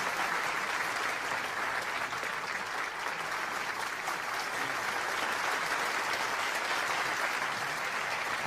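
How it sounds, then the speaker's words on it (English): Steady, dense applause from a large audience at a peace rally, continuous and even throughout with no voices standing out. "let us give another big round of applause"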